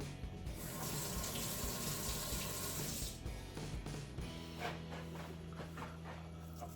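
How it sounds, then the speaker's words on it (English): Running tap water splashes steadily into a sink as sticky fingers are rinsed under it, a continuous close hiss with shifting splatter and no voices. "I need to rinse my fingers already because that's a little too sticky."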